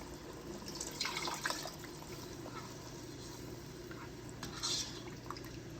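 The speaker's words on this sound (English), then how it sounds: "To loosen it up, I'm going to add some of my meat stock." Meat stock is poured into a pan of jollof rice sauce, making a faint, continuous liquid splash and trickle with a couple of slightly louder bursts and no speech.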